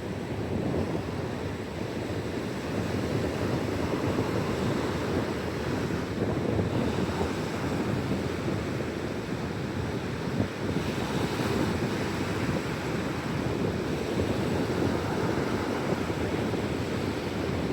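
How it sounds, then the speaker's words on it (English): Ocean waves break along the Padre Island seashore in a continuous broadband roar of surf. Steady wind rumble buffets the microphone throughout, and no one speaks. "She's just mesmerized by the waves."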